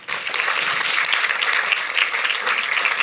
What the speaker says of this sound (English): Let's give a big round of applause for the Honourable Hazel Simmons-McDonald.